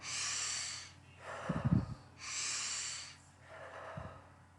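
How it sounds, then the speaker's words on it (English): Deep breathing drawn into the chest and stomach, with slow, loud, close inhalations and exhalations alternating in a steady rhythm, a few snorting breaths mixed in, no talking. "what really works for me sometimes is breathing into the chest, then the stomach, or maybe both at the same time"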